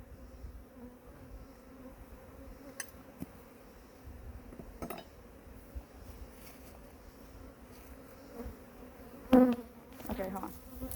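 Honey bees buzzing around an open backyard beehive, a steady low drone close by for the whole stretch, with occasional clinks and knocks of hive tools and equipment.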